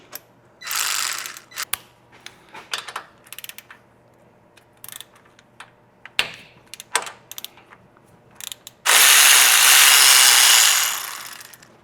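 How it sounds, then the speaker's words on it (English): Long-neck ratchet turning bolts on a 1969 VW Beetle: bursts of rapid, sharp clicking from the pawl, close and fairly loud, separated by quieter gaps with scattered metal taps, ending in a long, loud rasping run. "my long neck ratchet"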